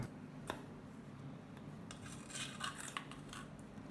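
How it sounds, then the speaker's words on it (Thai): Soft, irregular knocking and scraping of a pestle working ripe tomatoes in a mortar for Thai nam prik ong, faint and close with scattered light taps. "แล้วก็ให้เราตำมะเขือเทศของเราแค่พอแหลกๆนะครับ"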